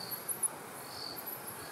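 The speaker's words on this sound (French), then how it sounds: "Ça, c'est un grillon." A cricket chirps at night in South Africa, giving a faint, steady high trill with a few soft clicks close by, and no voices.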